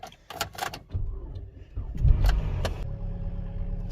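A used high-mileage car with a cracked windshield starts up, with a few clicks and clunks before the engine catches and settles into a steady idle nearby.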